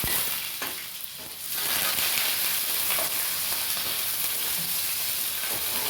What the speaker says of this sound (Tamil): வெங்காயம் சேர்த்துக்குவேன், கருவேப்பிலை, இதை நல்லா வதக்கிடுவோம்